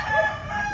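A white fighting rooster, a gamecock kept for a cockfight, crows in a brief loud strained cry heard close up and alone.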